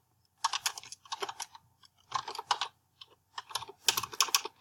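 Close, crisp clatter of keys on a computer keyboard as a name is typed, coming in four quick bursts separated by short pauses, with no talking.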